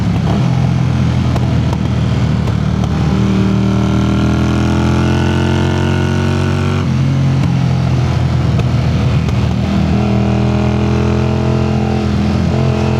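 A 1981 Honda CX400C motorcycle engine runs steadily while riding, a loud, close, continuous drone with rising and falling harmonic tones as speed shifts, heard alone without talk.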